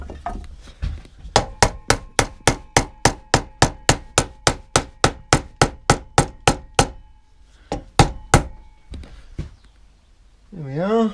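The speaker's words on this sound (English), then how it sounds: "Needs a little knock with the hammer." A hammer knocks repeatedly on a wooden cot frame to close a gap in a joint, about twenty sharp, evenly paced blows in a steady run, then a few scattered taps and a brief voice at the end.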